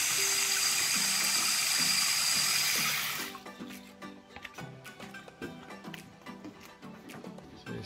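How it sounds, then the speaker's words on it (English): Fresh tap water gushes steadily into a bucket for about three seconds, a loud close hiss that then cuts off, leaving quieter tonal background sounds. "We're just filling up with just fresh water from the tap"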